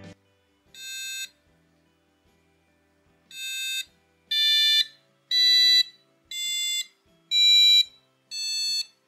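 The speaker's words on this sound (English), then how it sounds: "It was kind of cool to hear a musical scale coming from this tiny little thing." A tiny passive buzzer driven by an Arduino UNO plays a musical scale as a series of seven short, loud electronic beeps with gaps between them, close and alone.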